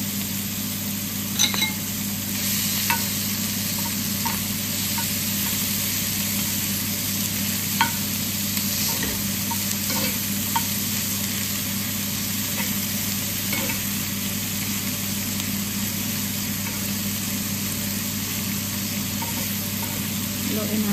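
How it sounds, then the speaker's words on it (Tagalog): Pork sisig meat sizzles steadily in a hot pan, a dense continuous hiss with occasional light clinks and stirring scrapes, close and even throughout with no talk. "Nag-sizzle na siya."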